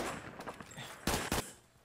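A scoped gun fires two quick, loud shots in Roblox Phantom Forces, close and sharp, in the middle of a stretch of quieter game noise.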